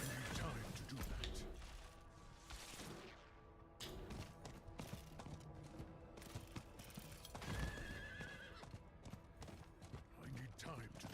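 A video game horse whinnies and its hooves clip-clop repeatedly during a sprint, with game clatter mixed in and a voice talking over parts of it.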